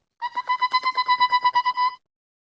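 A storyteller's voice imitates a mouse's squeak for a children's reading session, a quick run of about a dozen high, thin, evenly spaced squeaks, close and alone.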